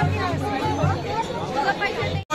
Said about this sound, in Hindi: ये लोगों की भीड़ है